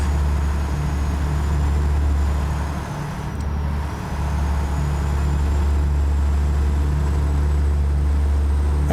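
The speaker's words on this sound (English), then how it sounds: "This engine sounds sweet in this truck." Kenworth W900 truck engine in American Truck Simulator, a loud, smooth, continuous low drone with a steady idle-like hum and a slight dip in the middle, no voices.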